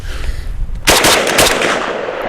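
A loud, fast burst of fire from a VSKA AK rifle erupts after a quiet moment, rapid shots blurring into a sustained rattle that holds for over a second.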